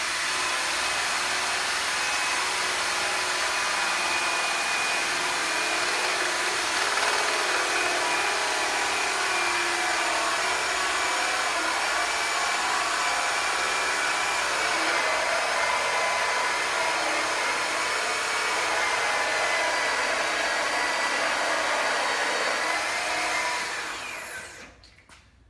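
A power drill whirs steadily and loudly for about twenty seconds as it bores into wood, then winds down and stops at the end.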